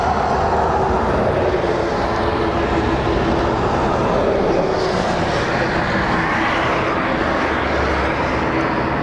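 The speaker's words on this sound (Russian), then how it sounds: "Мы опять мотоциклист едет." A motorcycle rides past outside while people sit in a car during the purchase of a VAZ 2112, giving a steady, loud broadband engine drone that fills the whole stretch with no clear approach or fade.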